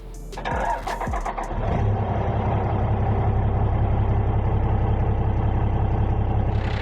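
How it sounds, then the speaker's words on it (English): A P-pump 24-valve Cummins diesel engine swapped into a Chevy 2500HD cranks and catches, then settles into a steady, loud idle with a rhythmic clatter; no voices. "It's funny that the P-Pump 24 valves sound more like a 12 valve."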